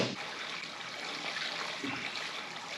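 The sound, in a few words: water poured into Caterpillar D4 tractor radiator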